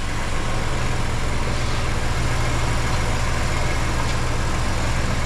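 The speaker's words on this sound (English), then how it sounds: "Engine running." A Ford F-150 with the 2.7 EcoBoost engine idles steadily, a constant low hum with a smooth mechanical drone that stays even and unbroken from start to end, with no talking.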